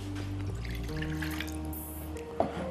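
Water is poured into an everyday mug to measure it for tea in a kitchen, a soft running splash under steady background noise, ending in a small clink.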